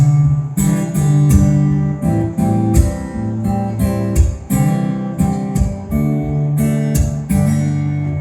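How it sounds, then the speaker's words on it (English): Guitar strummed with sharp percussive slaps against the strings while the chords keep ringing, a close, loud rhythmic pattern of hits layered over sustained chord tones. "I realized that there was that percussive sound, but the chords were ringing out."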